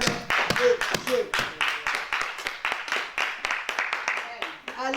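Congregation clapping in church, a dense run of hand claps with irregular rhythm under overlapping voices and cheers, fairly close and steady throughout.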